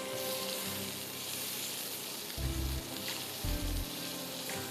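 Frozen plain parathas from Sabroso sizzling on a stovetop, a steady frying hiss with a low rumble that swells twice.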